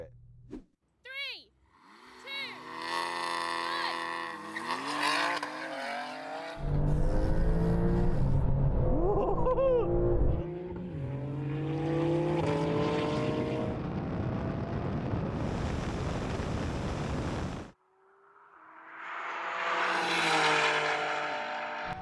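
A 750 hp BMW M3 and a 650 hp Porsche 911 Turbo S drag race. Engines roar and rise in pitch through repeated gear shifts, loud and sustained, then cut off briefly before another burst of engine noise returns.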